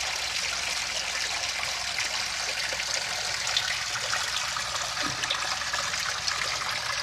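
Water drains steadily from an area beside a fish pond, giving a continuous, loud rushing trickle that stays even throughout with no voices.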